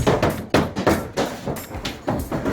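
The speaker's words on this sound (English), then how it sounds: "Holding the sheetrock and nailing it." Nails hammered into sheetrock on a two-floor home addition, a rapid run of sharp, close, loud blows in an uneven rhythm, roughly eight strikes in quick succession.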